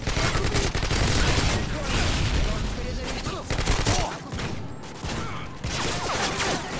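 Dense, continuous gunfire from a Modern Warfare 2 online match, with rapid overlapping shots and bursts that stay loud and close throughout, easing only slightly partway through.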